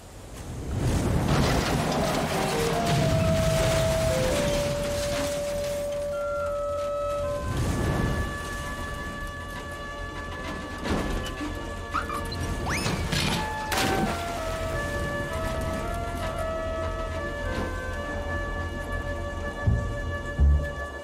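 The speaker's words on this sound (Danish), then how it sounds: "Lad os nu se at komme i ly for stormen." Storm in an animated Rudolph film: steady rain drumming on surfaces with crashing bursts and a faint rumble, accompanied by sustained musical tones, continuous and fairly loud throughout.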